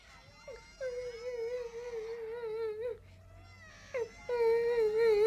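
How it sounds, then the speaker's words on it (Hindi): A young child crying in long, wavering wails broken by short pauses and catches of breath, close and fairly loud. "ये तो किसी के रोने की आवाज है।"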